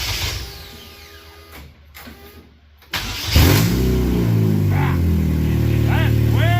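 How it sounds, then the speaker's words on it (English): An enduro race car fitted with a new exhaust cranks over with a whirring starter, then fires up at about the three-second mark into a loud, steady idle with blips of revving. "This is the first start up with the new exhaust."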